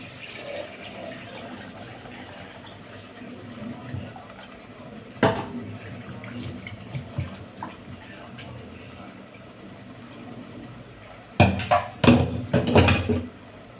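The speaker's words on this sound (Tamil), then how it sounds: "இப்போ நம்ம இதில் புளி தண்ணியை சேர்த்துக்க வேண்டியதான்." Tamarind water is poured into a simmering fish kulambu, with soft liquid sloshing, light clinks of utensils and a louder run of splashing and pouring near the end. A person talks over it.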